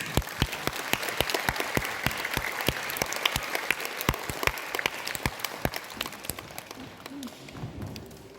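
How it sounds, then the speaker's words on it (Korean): Theater audience applauding at the curtain call of a Korean history musical, a steady stream of sharp close claps that gradually thins and fades toward the end. "우리 더 뜨거운 박수 힘차게 보내드립시다"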